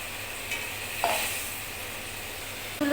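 Bata fish frying in a pan, with a soft, steady sizzle and a few faint stirring clicks nearby, no voices.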